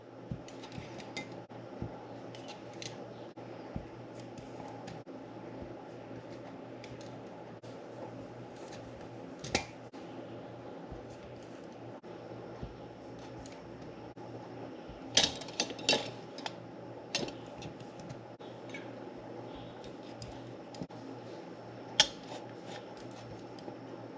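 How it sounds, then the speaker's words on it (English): Home-canned jars of chicken broth ping inside a pressure canner as they seal, giving sharp metallic clinks scattered irregularly over a steady low hum, a few close together and one isolated near the end. "Pinging in the canner."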